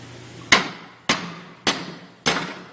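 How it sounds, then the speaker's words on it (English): A tool taps a wellhead security nut down into its drive: four sharp, evenly spaced metallic knocks about half a second apart, each ringing briefly before the next. "show him how you tapped it down into the drive"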